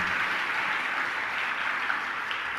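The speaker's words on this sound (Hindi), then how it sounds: "बजा लो अपने लिए ताली, जम के तो बजाओ, इतने धीमे का है बजा" An audience clapping continuously at a religious discourse, a dense, even wash of many hands at moderate loudness with no voices over it.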